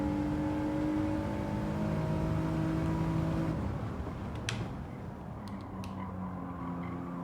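A race car engine in the video game Gran Turismo 7 holds a steady high drone that shifts pitch midway, with brief sharp clicks or tire noises near the end and no talk.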